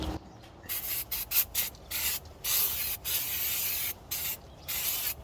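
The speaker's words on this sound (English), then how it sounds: "So we'll use brake cleaner first, remove all the CRC, and then just clean up the surface here" Brake cleaner sprays onto the brakes of a Toyota Prado Land Cruiser in a series of short hissing bursts, then a few longer blasts in a stop-start rhythm, loud and close with no voices.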